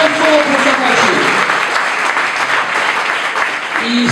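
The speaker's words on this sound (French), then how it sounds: "Applaudissons pour les témoins de l'épouse." Wedding guests clap together at a marriage celebration, loud, sustained applause throughout while a voice speaks over the clapping at the start and again near the end.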